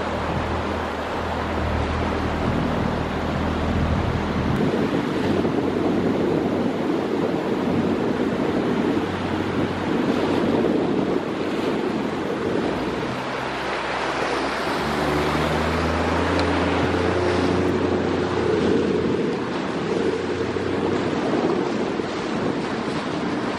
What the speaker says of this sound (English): Behind us is the beautiful waterfall from the river Sugelva